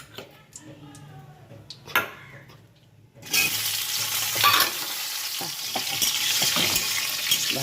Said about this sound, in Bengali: বাঁধাকপি আলুগুলো ভেজে নেব